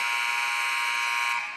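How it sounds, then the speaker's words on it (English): A final buzzer sounds at a women's college basketball game, a single loud sustained electronic tone that holds steadily and then cuts off, with no talk over it. "that's the final buzzer"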